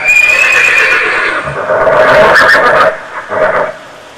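A horse whinnies loudly and continuously for about three seconds, then gives a second shorter neigh, with faint hoof clip-clop beneath.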